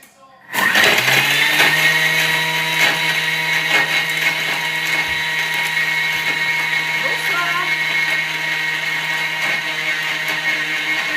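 A Thermomix runs at speed 10 for about 20 seconds, making a loud, steady high-pitched whir that starts abruptly and holds at a constant roar for the whole stretch.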